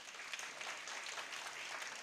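An indoor audience at a talk claps steadily and evenly, a dense wash of many hands that holds for the whole stretch and sounds moderately distant, with no voices over it.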